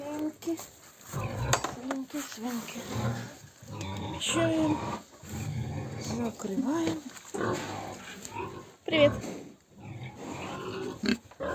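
Pigs grunt and snort up close in short bursts, with a person talking intermittently between the animal noises.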